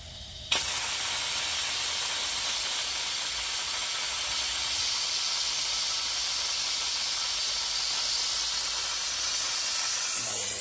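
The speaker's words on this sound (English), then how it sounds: "I just get all the residual, close it off, build some suction." A steady, loud hiss starts abruptly as suction builds in an over-engineered catch can setup on a 3.5L EcoBoost Explorer, holding constant and nearby for about ten seconds.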